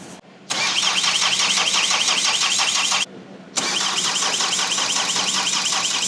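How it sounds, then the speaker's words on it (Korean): A diesel car engine cranks repeatedly in freezing cold with a fast rhythmic chugging like a tractor, pauses briefly, then cranks again without catching; loud and close. "시동을 먼저 한번 걸겠습니다."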